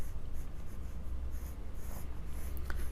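A pencil scratches loosely across paper, making a continuous close, soft scraping over a low background hum, with no talking.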